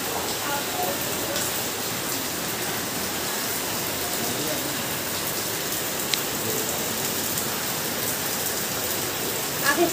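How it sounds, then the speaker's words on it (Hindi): Heavy rain pours steadily and loudly over the whole stretch, a dense unbroken hiss of drops on surfaces, heard while setting out toward Chandigarh. "अब बारिश बहुत ज़्यादा तेज हो रही है"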